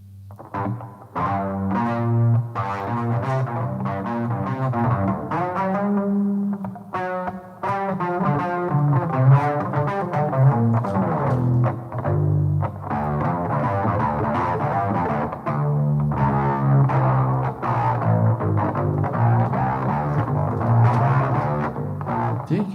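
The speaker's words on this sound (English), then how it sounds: "Wonder how distortion sounds." A homemade cigar box bass played through a distortion effect, giving a fuzzy, gritty tone as a continuous run of plucked notes and riffs, loud and steady with no talking.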